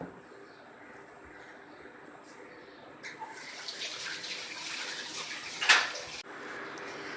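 Water pours from a cup into a cooking pot of beef korma with ginger and garlic, a soft splashing rush rising after a quiet start and stopping abruptly, near and moderately loud.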